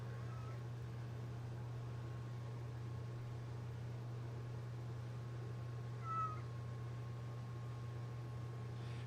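A domestic cat gives two faint, short meows, one near the start and one later. They sit under a steady indoor electrical hum, with long quiet stretches between them.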